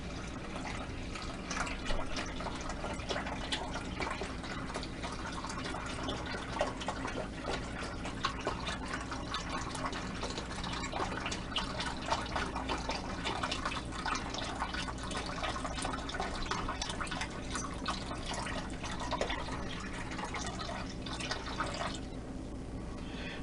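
Water trickles and drips into a roasting pan around a Thanksgiving turkey, a steady close splashing and pattering that runs continuously with small bursts and no voices.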